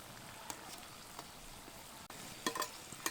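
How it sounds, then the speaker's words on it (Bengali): Lobongo lotika pastries frying in oil in a wok over a low flame, a faint, soft crackling sizzle with a few sharper pops toward the end. "আর এগুলো ভাজার সময় কিন্তু আঁচ খুব বেশি দিলে চলবে না, হালকা আঁচেই ভেজে নেব"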